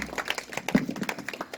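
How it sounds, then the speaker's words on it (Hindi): Audience clapping after a dance performance at a church Christmas gathering in Katghora, a short burst of scattered hand claps with irregular rhythm, moderately near. "कृपया ताली बजाएंगे।"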